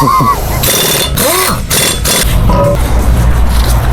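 Wheel nuts come off a Ford in a tire shop video game, with loud mechanical bursts of a power tool among game noise and engine hum, while someone talks over it.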